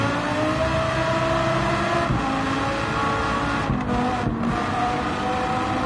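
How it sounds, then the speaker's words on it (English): Nissan GT-R R35 Nismo safety car in Gran Turismo 7 at the Nürburgring Nordschleife, its engine droning loudly and continuously at high revs, with small shifts in pitch as it powers along. "R35 GTR safety car. Has a very nice sound as well. That Nismo engine that's in it."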